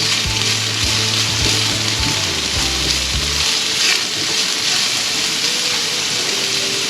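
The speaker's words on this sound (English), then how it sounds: "While my garlic is cooking" Two cloves of garlic fry in oil over low-medium heat in a pan for a tofu stir fry, giving a steady, close sizzle throughout with a few light knocks early on and no talking.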